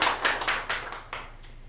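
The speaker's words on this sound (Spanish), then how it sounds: "Un fuerte aplauso, por favor." A small audience at an academic conference for clinical laboratories claps to welcome a speaker, a short, uneven patter of close handclaps that thins out into a few separate claps.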